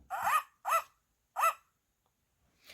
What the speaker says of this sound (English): Scooter ran in circles, barking.